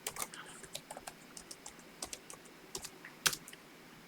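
Keys clack on a computer keyboard as a password is entered at a sudo prompt, a quiet run of scattered single keystrokes with uneven pauses and one sharper tap near the end.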